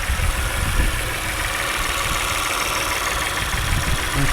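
A 2019 Jeep Wrangler engine runs steadily at idle with a rough, noisy mechanical clatter and a broadband roar, close and constant throughout, with no talking.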